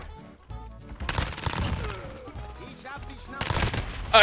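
Shotgun blasts in the video game Warzone, a couple of sharp loud bursts among busy game effects and music, with faint background talk.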